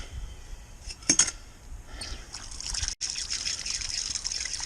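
Water runs from a hose nozzle in a cold garage, a hissing spray that sputters in short bursts, cuts out for an instant, then flows steadily at moderate loudness.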